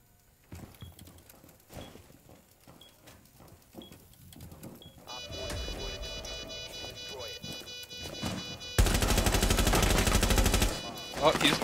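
Gunfire in a tactical shooter game, starting as scattered single shots and building into sustained rapid bursts that grow louder and denser toward the end, with players talking over it.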